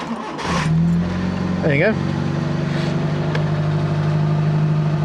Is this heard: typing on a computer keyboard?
no